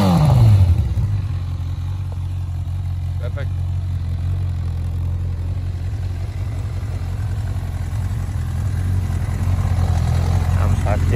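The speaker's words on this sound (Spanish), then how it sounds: "A ver, un par de acelerones, que la moto está caliente." A warm, customized brat-style Honda CB 1000 R motorcycle engine runs close by at a steady, low, throbbing idle, holding an even rumble throughout with only slight swells in throttle.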